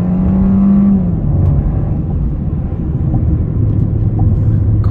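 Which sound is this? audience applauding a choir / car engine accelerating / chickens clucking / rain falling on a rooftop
car engine accelerating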